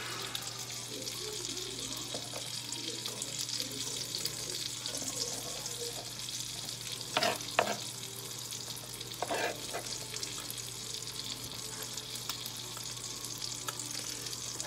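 Onions and crab meat sizzle steadily in a hot pan for a cheesy crab dip, a constant close frying hiss with a few stirring clatters partway through.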